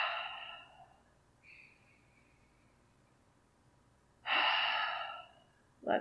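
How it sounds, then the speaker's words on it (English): A person exhales a deep breath through the mouth during a gentle yoga flow class. It comes as a breathy rush at the start, then a softer sigh and a second strong exhale later, close and clear against near silence. "Exhale through your mouth."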